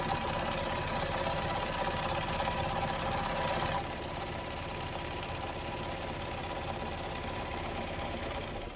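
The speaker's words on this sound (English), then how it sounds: "I'm going to go back to a straight stitch" A sewing machine runs a straight stitch through a shower flower loofah, a continuous whirring, knocking motor drone that drops slightly in level partway through and keeps going to the end.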